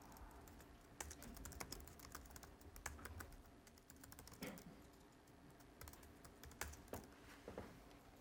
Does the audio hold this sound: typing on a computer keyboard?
yes